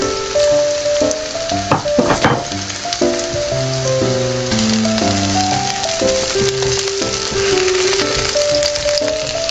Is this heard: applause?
no